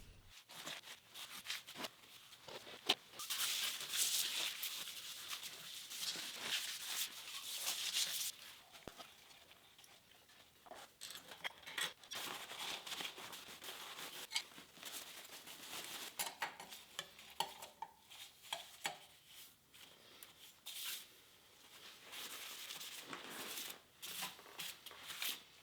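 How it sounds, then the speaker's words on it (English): A putty knife scrapes old sludge off a milling machine being restored, giving repeated gritty rasping strokes, close and fairly quiet, that come in uneven bursts with short pauses. "it makes a nice sludge that's super satisfying to scrape off with a putty knife"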